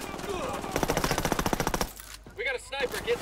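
Rapid automatic gunfire from the video game Ghost Recon Wildlands rattles out in one fast, evenly spaced burst lasting about a second, followed by a voice speaking over quieter game sounds.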